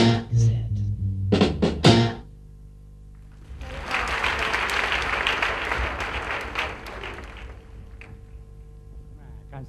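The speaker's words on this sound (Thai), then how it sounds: "ขอเสียงปรบมืออีกสักครั้งหนึ่งครับนักแสดงจาก Tiffany Show พัทยาครับ" Audience applause for Tiffany Show Pattaya performers at a Miss Tiffany's Universe 2004 stage event, a steady wash of many hands clapping for several seconds after a brief burst of music and voices at the start.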